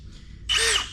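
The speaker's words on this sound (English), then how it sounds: "This is a Milwaukee drill." A Milwaukee cordless power drill in a garage workshop gives a short, close burst of high motor whine that starts abruptly after a quiet moment.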